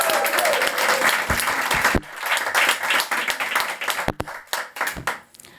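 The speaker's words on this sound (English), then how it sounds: "Ladies, let's give a big round of applause." Audience applause at the opening of a World Woman Foundation gathering in Davos, a dense burst of clapping that swells loud, breaks briefly, then resumes more raggedly before thinning out.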